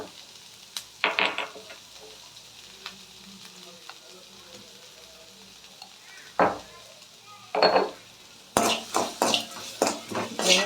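Beans and peas are sautéed in a pan with a little salt, the steady sizzle broken by several sharp scraping bursts of a stirring spoon, close and moderately loud.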